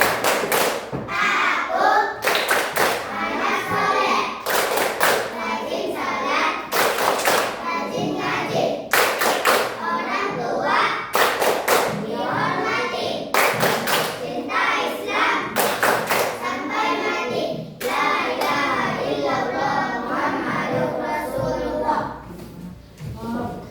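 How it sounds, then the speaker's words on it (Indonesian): Children in an Indonesian classroom perform the 'tepuk anak soleh' clapping chant, with repeated bursts of group hand claps and thumps in a steady rhythm, interleaved with chanted young voices, loud and close throughout. "Nah, tepuk anak soleh."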